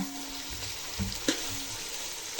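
Garlic fries gently in oil with cinnamon, cloves and fennel, giving a soft, steady sizzle with a couple of brief clinks from a stirring utensil, faint and close, without speech.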